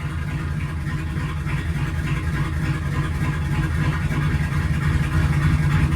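A Ford Mustang fitted with a swapped 6R80 transmission runs in drive, its engine giving a steady low, throbbing hum close by with no voices.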